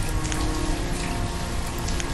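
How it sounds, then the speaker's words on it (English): Steady rain falling in the video game Banished, a dense, even patter that fills the whole stretch at a constant loud level, with no voices and no pauses. "It's raining again."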